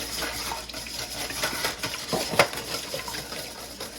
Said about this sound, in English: I have 1 whisk. Start beating that up.